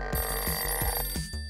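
Old corded telephone ringing with a rapid metallic bell trill that repeats in quick pulses, loud and close, with no voices.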